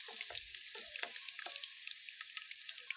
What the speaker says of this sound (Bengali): এখন এই সব কিছু 1 মিনিটের মতো ভেজে নিয়ে নিব, যাতে এগুলো থেকে একটা খুব সুন্দর স্মেল আসে।